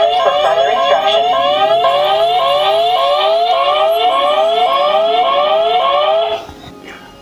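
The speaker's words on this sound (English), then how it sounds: "the motion sensor is triggered and the theft alarm is raised." The theft alarm of a home automation system with a motion sensor blares loud and continuous, a rapid repeating rising electronic whoop that cycles steadily for about six seconds before cutting off.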